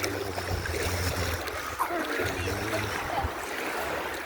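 A kayak slides into the sea off a Chalkidiki shore, water sloshing and lapping around the hull with low rumbling scrapes, moderately quiet and continuous, with faint voices in the background.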